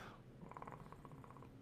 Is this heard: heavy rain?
no